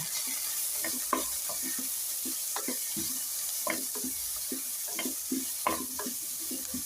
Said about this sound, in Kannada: ಇವಾಗ ಸ್ವಲ್ಪ ಕೈ ಆಡಿಸ್ಬೇಕು ಹಿಂಗೆ.